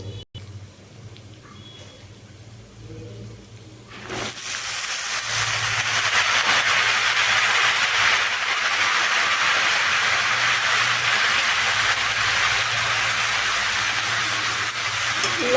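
Chopped bottle gourd dropped into a pan of frying lentils, a quiet start that breaks into a loud, steady hissing sizzle sustained to the end.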